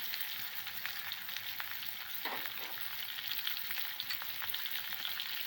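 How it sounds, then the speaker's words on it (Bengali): Potato pieces frying in oil in a pan for rui fish curry, a dense continuous sizzle with scattered crackles and a couple of soft scraping stirs, close and steady, no talking. "আলুটা আমি লাল লাল করে ভেজে নেব।"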